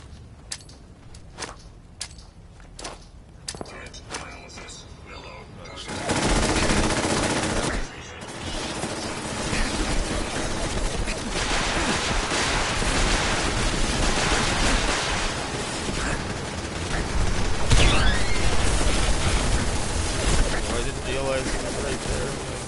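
Sentry bots firing guns in the Fallout 4 video game, sparse sharp shots at first, then a dense, sustained roar of rapid gunfire and explosions filling the rest, with a voice talking briefly.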